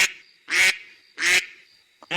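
Ducks in a duck house let out three loud, harsh quacks, close and evenly spaced with short quiet gaps, and a brief small call just before the last one.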